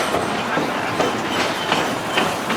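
A theme park train at Silver Dollar City in Branson, Missouri rolls along its track, giving a steady loud rumble with faint rhythmic clicks of the wheels throughout.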